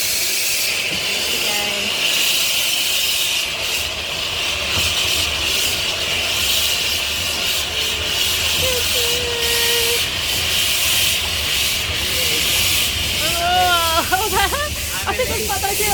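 A coal-fired steam train on a heritage railway hisses with a steady, loud rush of steam throughout, with a short whistle-like tone near the end, while people talk close by.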